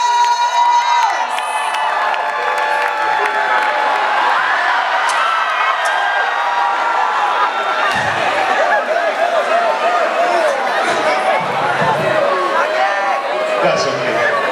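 Crowd at a finance conference at the University of Lagos cheering and shouting loudly and continuously, with chatter and laughter mixed in and energetic whoops rising and falling across the stretch.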